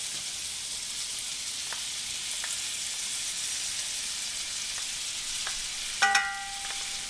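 Salisbury steak patties sizzle in butter in a pan: a steady, close frying hiss with faint pops throughout, and a brief clatter of a utensil or pan near the end.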